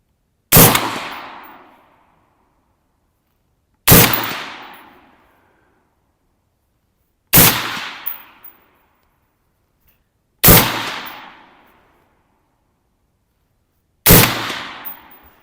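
Five loud, sharp gunshots through an Anechoic titanium suppressor, evenly spaced a few seconds apart, each a hard crack that trails off quickly with no talking between them.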